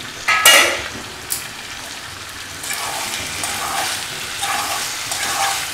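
Chicken dry fry sizzles in a pan, a soft steady frying hiss with a few sharp clinks and scrapes of a spoon stirring the meat near the start.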